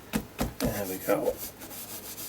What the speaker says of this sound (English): I'm just going to use a baby wipe and just rub into the background.